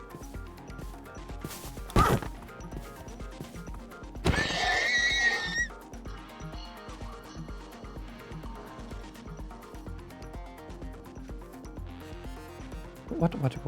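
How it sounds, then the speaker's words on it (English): Horses in the Minecraft video game give a short whinny and then a longer, louder neigh, with a few soft clip-clop sounds between them while people talk over the game. "Oh, we've got horses."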